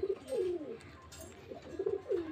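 A male Giribaz pigeon coos in repeated low, rolling phrases, two bursts near the start and two more near the end, close and fairly clear over a faint background hiss.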